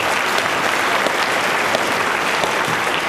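Steady, dense applause from an audience at a Carter High School event in Rialto, California, honoring the fire chief and partners; continuous clapping fills the whole moment without pause.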